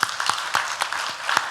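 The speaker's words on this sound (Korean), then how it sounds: "박수 한번 할까요?" Church congregation applauding after a prayer, scattered individual claps with a distinct rhythmic pattern, fairly soft and thin rather than a full roaring ovation.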